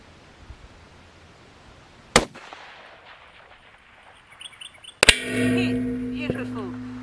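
A .243 Winchester rifle fires at a long-range steel target 1437 yards out from a two-leg tripod: a sharp, loud muzzle crack stands out suddenly from quiet outdoor ambience, followed by ringing, echoing decay and a few faint distant noises.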